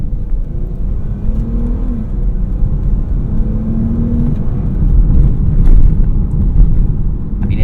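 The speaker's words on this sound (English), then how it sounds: "I'll do a short pull over here just so you can hear the engine" A 2017 Dodge Charger V6 in manual mode revs up in first gear toward redline from inside the cabin, a steady low engine drone that rises in pitch and loudness, with no talking.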